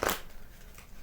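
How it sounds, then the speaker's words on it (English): A quick riffle of tarot cards being shuffled, loudest at the start and then trailing into a soft, close papery rustle. "One more shuffle."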